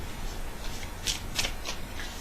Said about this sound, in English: you can hear my terrible shuffling.